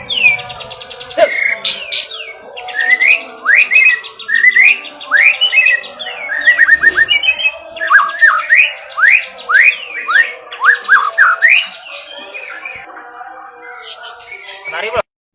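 An Indonesian magpie robin (murai jokobie) sings loudly and close by in a long, varied run of rapid whistles, trills and chirps, with only short pauses throughout.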